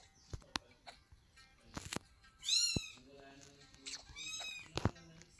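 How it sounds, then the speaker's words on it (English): A kitten meowing indoors, several high wavering cries spaced among faint clicks and soft background sounds, close and fairly quiet. "Sorry for the meows, guys."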